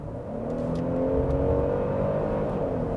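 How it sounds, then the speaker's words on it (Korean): A Genesis GV70 3.5T AWD sport package engine revs hard as the accelerator is floored, a loud, sustained rising drone heard from inside the cabin with no talk over it. "여기서 제가 가속 페달 한 번만 꾹 밟아볼게요"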